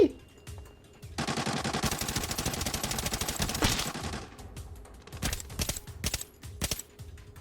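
A long burst of rapid automatic gunfire in the video game Arena Breakout rattles for about three seconds, followed by scattered single shots and clicks.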